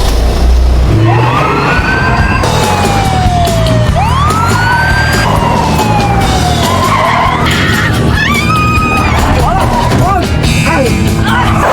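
Wailing ambulance siren with rising and falling sweeps, loud and close, mixed with traffic and screeching tire noise in a dramatic hospital trauma scene.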